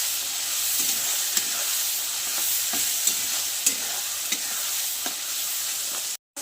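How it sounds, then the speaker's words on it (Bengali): Ginger-garlic paste is stirred into softened onion and tomato in a frying pan while preparing a koi and bhetki fish kasha. A continuous sizzle runs under periodic spatula scrapes, with a brief dropout near the end. "এবার আমি আদা রসুন বাটা দেব, দিয়ে ভালো করে নাড়াচাড়া করে নেব।"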